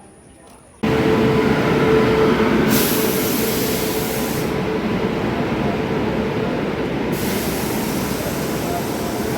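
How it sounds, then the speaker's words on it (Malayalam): A superfast express bound for Lokmanya Tilak from Kochuveli rumbles in on the next track at a station, a loud continuous roar and hiss that starts abruptly and holds steady, with talk in the background. "അപ്പുറത്തെ ട്രാക്കിൽ കൊച്ചുവേളി ലോക്മാന്യത്തിലേക്ക് സൂപ്പർ ഫാസ്റ്റ് എക്സ്പ്രസ് വന്നിട്ടുണ്ട്."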